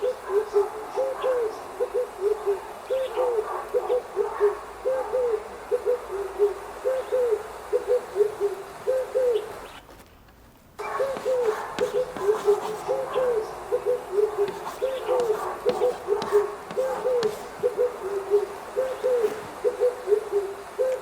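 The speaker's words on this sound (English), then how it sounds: "Birds." Repeated low hooting calls, like an owl or dove, sound in a steady rhythm at moderate distance, briefly pausing midway before resuming.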